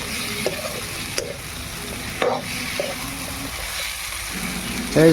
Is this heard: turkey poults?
no